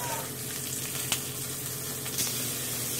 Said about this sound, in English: we're going to throw some butter and some herbs in there